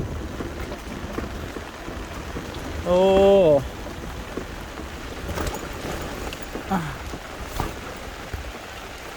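Heavy storm rain hisses steadily over a wide area, with scattered drips and knocks; a brief vocal exclamation cuts through near the start.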